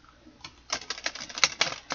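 A stiff, thick-cardstock 78-card Lost Tarot of Nostradamus deck being shuffled: after a quiet start, a rapid run of crisp card riffles and slaps, close and fairly loud.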